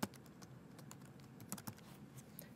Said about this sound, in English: after that, I'll type in my sub-label